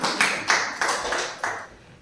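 Rhythmic, fairly close clapping from a church congregation applauding during a French-language service, about six even claps with no voices over them.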